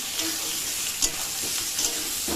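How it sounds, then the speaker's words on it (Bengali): Prawns for a coconut prawn dish fry in a pan with a steady close sizzle, punctuated by two distinct stirring scrapes and a third near the end. "দিয়ে সুন্দর করে নেড়ে চেড়ে চিংড়ি মাছটাকেও ভেজে নেব"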